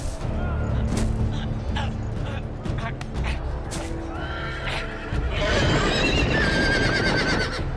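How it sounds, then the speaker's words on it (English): Horses whinny and neigh in Telltale's Game of Thrones amid a busy game soundscape with hoofbeats and scattered bangs, a loud burst of noise swelling near the end. "Oh no, horses."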